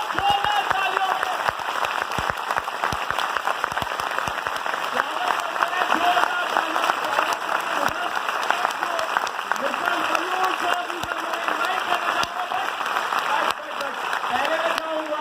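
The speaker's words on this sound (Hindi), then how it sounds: "तो एक बार जोरदार 1 2 3 जोरदार तालियों से" Loud, sustained applause from an audience in a hall, dense clapping with no break across the whole stretch and a crowd voice or two under it.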